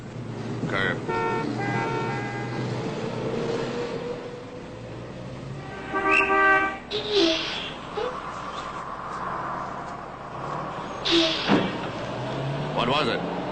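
A bus rolls past along a city street amid traffic, its rumble swelling and fading at moderate distance, with horn toots and other vehicles around and people talking.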